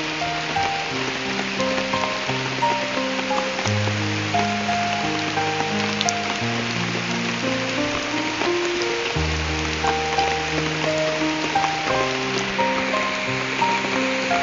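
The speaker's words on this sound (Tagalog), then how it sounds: "lakas ng ulan" Dense, constant hiss of heavy rain pouring down, with a melodic tune playing over it throughout.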